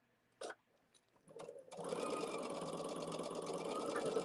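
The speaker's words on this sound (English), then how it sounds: "Chain sewing is when you just feed them one after another in" Quilt blocks are chain sewn on a sewing machine: a couple of brief taps and short starts, then a steady rapid mechanical whirr of continuous stitching, close and moderately quiet.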